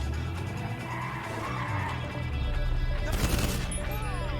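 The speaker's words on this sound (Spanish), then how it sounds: "me sorprende la cantidad de tiros que le estoy encajando" Gunfire and tire skids during a GTA Online heist video game, a dense mix of engine drone and squealing with a loud sharp burst of shots near the end.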